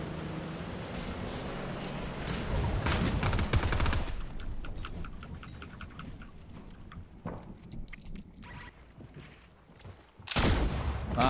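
Gunfire in an online arena shooter game: dense bursts of rapid shots in the first four seconds, then scattered single shots and a loud closing burst, with no talk.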